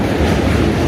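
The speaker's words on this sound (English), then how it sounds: "Another train." A train passes close by in Manhattan, New York City, with a loud, continuous rumble and rattle that fills the whole moment and no talk over it.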